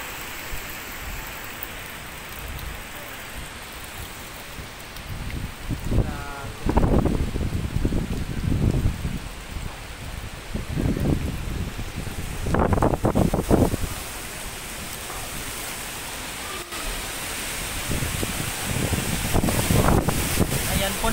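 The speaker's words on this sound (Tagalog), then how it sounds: "Ang napakalakas na hangin dulot ng bagyong Quinta" Strong typhoon winds from Typhoon Quinta gust and roar across a residential area, buffeting the microphone in surges with a rain-like hiss, while someone talks intermittently over the storm.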